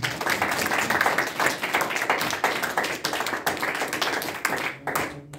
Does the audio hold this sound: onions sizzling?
no